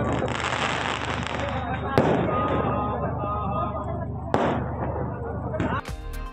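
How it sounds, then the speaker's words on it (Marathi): Fireworks burst during the consecration of a Vitthal-Rukmini temple at Pathardi Phata, as its spire is installed: a dense, continuous crackle with two sharp, loud bangs standing out, and voices faintly present beneath. "फटाक्यांच्या आतिषबाजीत"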